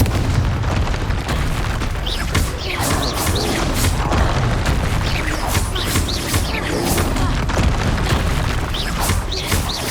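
Repeated Confringo blasting-spell explosions in the Hogwarts Legacy video game, a dense barrage of loud booms and crackling bursts stacked over a constant rumbling din, with no pause in the noise.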